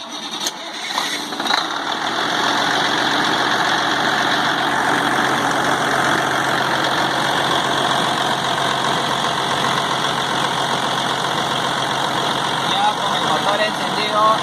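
A car engine runs steadily just after being started, a constant mid-pitched hum and rumble that holds at an even level for several seconds, close and continuous, with no talk over it.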